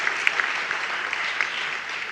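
An audience at a political speech applauds, a dense, steady round of clapping heard alone, even in level with a few sharper individual claps standing out.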